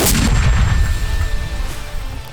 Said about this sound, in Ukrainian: По готовності одну міну вогонь на восьмому заряді. Постріл!